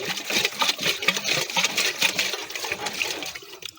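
A palm oil and neem extract pesticide mixture is poured in a continuous splashing, gurgling stream, close and fairly loud, tapering off at the end.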